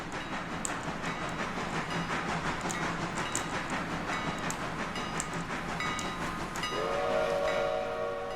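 A locomotive in the railway game Railroader rolls along the rails with a steady rumbling clatter, and near the end a sustained whistle sounds over the running noise, with no talking.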